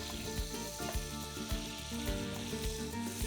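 Butter and olive oil sizzle together in a warm pan before fish is added, a steady close crackle with soft fizzing throughout and no talking.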